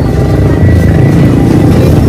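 Continuous low engine drone of motorbikes moving close by through a local market in the Philippines, steady and loud throughout with a broad rumbling texture.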